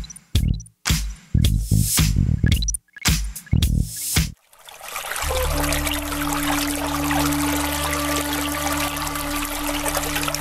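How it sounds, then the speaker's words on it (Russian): Water trickles softly and continuously in a small Japanese garden, a steady gentle burble heard alone after several seconds of louder knocking and handling sounds. "слышим журчание воды."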